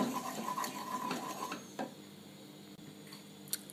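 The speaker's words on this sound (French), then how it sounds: "à l'aide d'une cuillère en bois, je mélange bien le tout" A wooden spoon stirs cream into a peanut sauce in a pan, giving soft scraping and gentle liquid swishing over a steady background hum, with no talk.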